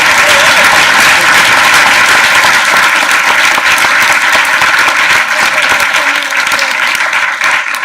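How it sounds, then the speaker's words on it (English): Loud, sustained applause from a conference audience thanking a panel, a thick, even wash of many hands clapping continuously from start to finish. "Let's give them a quick round of applause."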